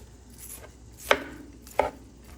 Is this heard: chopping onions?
yes